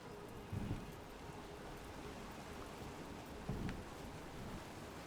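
A waterfall in the fantasy video game Dragon Age: The Veilguard roars as a steady, faint wash of falling water, with a couple of low thumps rising briefly from it.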